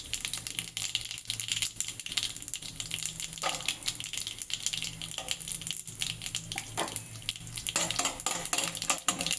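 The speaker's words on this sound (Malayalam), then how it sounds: "നമുക്ക് മാറ്റി വെച്ച കടല ഇടാം കേട്ടോ" Chickpeas fry with mustard seeds and cumin in a pan, giving a steady, dense sizzle and crackle with faint stirring scrapes throughout and no talking.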